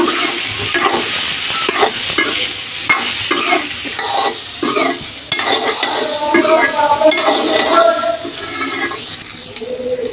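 A turmeric-coated mixture of cut jolpai (olives) is stirred in a cooking pan, with rhythmic scraping and clanking of a utensil over a soft sizzle, close and fairly loud throughout.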